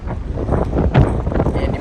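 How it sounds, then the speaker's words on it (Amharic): Wind and rain buffet a phone microphone outdoors on a stormy day in Canada, a loud, rough rumble with gusty swells and hiss that fills the whole moment. "እንግዲህ ንፋስ አለ፣ ዝናብ አለ።"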